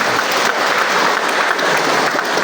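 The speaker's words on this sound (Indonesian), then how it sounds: "Kita sekali lagi tepuk tangan untuk kita semua" At a youth day closing event after a choir sang, an audience claps in a loud, dense, continuous wash of applause throughout.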